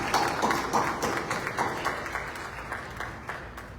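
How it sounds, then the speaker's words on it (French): An audience at a memorial ceremony honouring judges applauds, a dense, sustained burst of many hands clapping that fades gradually toward the end. "Je vous demande d'applaudir très fort M."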